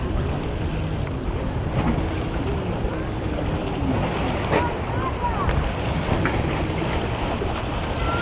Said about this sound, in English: There goes some people racing by on a Sea-Doo.